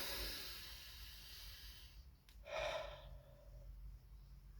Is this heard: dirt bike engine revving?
no